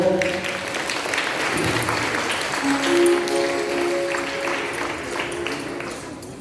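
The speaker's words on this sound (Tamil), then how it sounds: "கைத்தட்டுங்க." A church congregation claps steadily in a large room during Mass, the applause holding at an even level with a few faint tones ringing over it.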